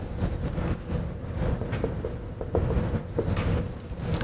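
Chalk or marker scratches and taps across a board as an equation is written out during a math lecture, heard as short strokes in uneven rhythm over room noise.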